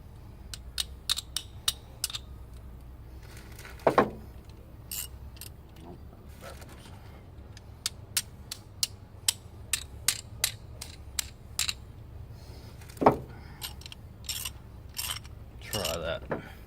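A worn ratchet clicks in short bursts while loosening exhaust manifold bolts on a 1991 Firebird, with sharp metallic clacks and ratcheting sweeps scattered over a quiet mechanical background.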